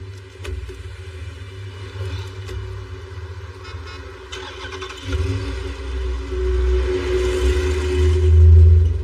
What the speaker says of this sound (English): Start the car, get the heat going.